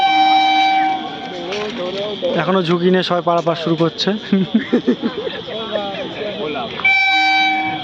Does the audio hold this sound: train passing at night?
yes